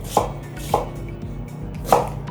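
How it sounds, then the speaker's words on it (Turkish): A knife chops through tomatoes on a cutting board, three crisp, fairly loud strikes spaced unevenly over a quiet kitchen background, with no talking. "Ben de domatesimi doğruyorum."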